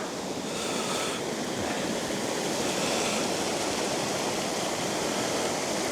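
Waterfall and babbling brook near Roche Abbey, a steady close rush of falling and running water with a constant dense wash and no voices.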